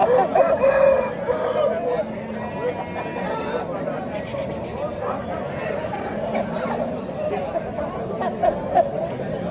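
Rooster crowing at a busy poultry bazaar in Tashkent, a drawn-out crow rising over steady crowd chatter, with nearby voices talking and other birds faintly in the mix.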